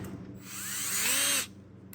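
A short burst of power drilling with a step bit, a rising whine as the bit bites in, lasting about a second before cutting off.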